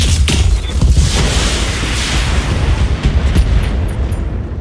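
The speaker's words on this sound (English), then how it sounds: "Firing all weapons." A mech in the BattleTech game fires all of its weapons together, a dense, loud barrage of booms and blasts that keeps going with no voices over it.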